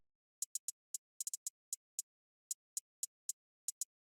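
A programmed hi-hat pattern for a hyperpop glitchcore beat: crisp, bright closed-hat ticks play alone in an uneven rhythm of quick doubles and triplets with gaps, fairly quiet and dry.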